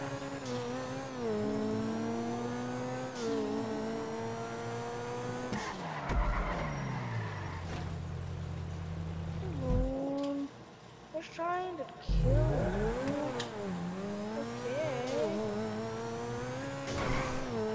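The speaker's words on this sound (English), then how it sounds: "The engine on this is huge." A huge-engined car in GTA 5 revs hard and swells in pitch, with tires skidding in between, close and loud throughout under a player's talk.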